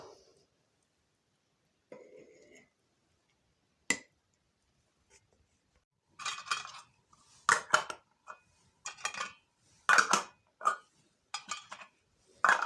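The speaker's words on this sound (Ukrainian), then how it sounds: "Накриваємо кришечками. З такої кількості в мене вийшло 12 півлітрових баночок." Metal lids being placed and clicked onto half-litre glass jars filled with preserved sorrel in a home kitchen: a few sparse clinks at first, then a rapid run of sharp, close metallic and glass knocks, with no talk.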